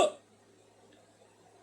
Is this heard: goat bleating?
no